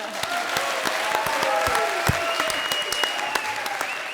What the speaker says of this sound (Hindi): मेरे लिए जोड़ो तालियां।